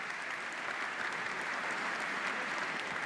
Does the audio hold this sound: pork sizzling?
no